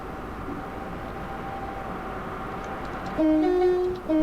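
A train in a train simulator video game rumbles steadily past, then a loud horn blares in sustained tones near the end.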